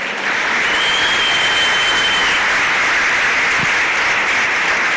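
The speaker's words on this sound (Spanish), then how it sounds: "¿Usted cree que Dios merece un aplauso?" A church congregation breaks into sustained applause during a Spanish-language sermon, a dense, even roar of many hands clapping that holds steady throughout.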